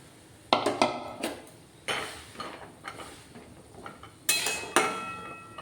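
Dry soy chunks tipped into a pot of boiling water for spicy momos, a series of close metallic clinks and knocks against the pot in short bursts with gaps between them.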